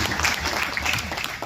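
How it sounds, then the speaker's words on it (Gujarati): Audience clapping at a teachers' award ceremony in Surat, a continuous, fairly loud wash of claps with faint voices mixed in. "તમે તાળી પાડી શકો છો"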